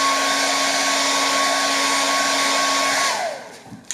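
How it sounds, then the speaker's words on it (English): A handheld blow dryer drying varnish on a painted project runs as a loud, steady whooshing roar with a faint whine, then cuts off near the end and spins down into quiet. "And now I need to hit it with the blow dryer"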